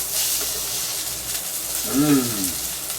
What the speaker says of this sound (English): That get in there and start sizzling.